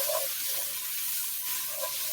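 Onions sizzle steadily in a pan with a soft, continuous hiss, a couple of faint scraping stirs breaking through the fizz.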